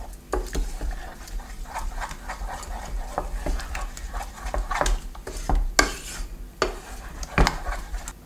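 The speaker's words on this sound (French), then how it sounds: "J'ajoute à ce mélange de la crème liquide bien chaude. Je mélange encore bien" A utensil stirring a chocolate mixture with hot liquid cream in a bowl, with repeated scraping and clinking against the sides in an irregular rhythm, close and clear.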